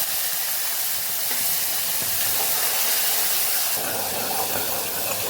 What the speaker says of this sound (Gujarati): રાઈ જીરું સરસ ફૂટી જાય એટલે આપણે ટમેટું ઉમેરી દેવાનું છે